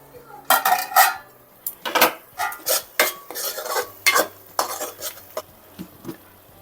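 A spoon scrapes and clanks against a pan while prawn curry masala is stirred and fried, giving a steady run of close metallic knocks and scrapes, with a faint sizzle underneath.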